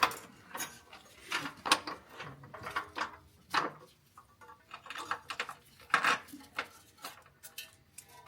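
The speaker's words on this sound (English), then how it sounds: "then we put it to 50 foot-pounds with the torque wrench right here" A torque wrench tightens the bolts of a Draw-Tite hitch on a 2020 Subaru Outback to 50 foot-pounds, with rapid ratcheting clicks in short bursts separated by pauses, close and moderately loud.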